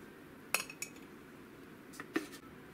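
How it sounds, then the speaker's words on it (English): A utensil stirs cornstarch into reserved milk in a small dish to make a slurry, giving a few faint, sparse clinks against the container in a quiet kitchen. "Now, give that a good mix so we have a good cornstarch slurry going."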